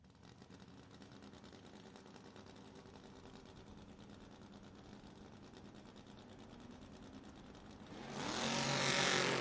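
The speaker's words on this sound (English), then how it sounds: "Camaro with a little baby wheelie there," A Camaro drag car at a footbrake drag racing event, heard as a steady mechanical engine drone that swells into a loud, broad roar near the end as the car launches down the track.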